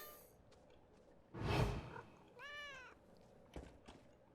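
A soft thump, then a single short cat meow in the video game Elder Scrolls Online, followed by a faint tap against a quiet, hissy background.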